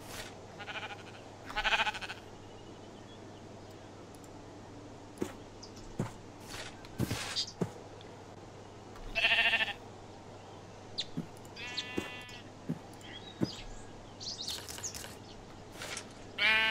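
Sheep in the video game Minecraft give several short, wavering bleats scattered through quiet gaps, some close and loud, mixed with soft footsteps and small clicks.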